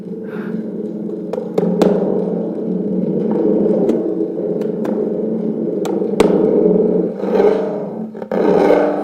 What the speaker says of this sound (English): it's like a thunder drum